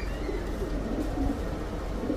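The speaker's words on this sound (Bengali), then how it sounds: "অনেক বড় সাইজের কবুতরটা" A large grizzle pigeon coos in low, soft, rolling murmurs, close by and continuous against a dull background hum.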